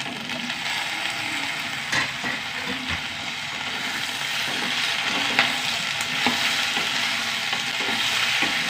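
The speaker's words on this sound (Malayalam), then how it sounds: "വെണ്ടയ്ക്ക ആദ്യം വഴറ്റിയെടുക്കാം" Okra sautéing in a pan, a steady close sizzle with occasional stirring scrapes and clinks running the whole time, no voices.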